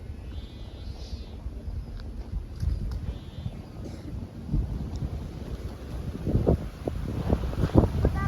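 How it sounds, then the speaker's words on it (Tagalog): Strong gusts rush and buffet against the microphone outdoors, a rough, uneven roar that swells in bursts toward the end, with a faint voice briefly under it. "Lakas ng hangin, no."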